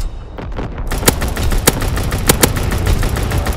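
An aircraft strafing run in Call of Duty WWII rakes the ground with loud, rapid gunfire, sharp cracks at a steady rhythm over a dense rumbling roar, starting after a brief quieter moment.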